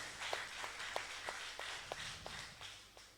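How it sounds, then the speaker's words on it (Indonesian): A church congregation claps for Jesus Christ, a steady rhythmic beat of about eight even claps, soft and somewhat distant over room hum. "Tepuk tangan untuk Yesus Kristus"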